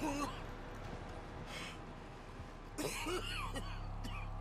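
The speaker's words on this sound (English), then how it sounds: "Is he coughing up blood?" A character in Red Dead Redemption 2 coughs up blood: a few harsh, wet coughs and gasps in separate bursts, with a louder cluster near the end, over a quiet game background.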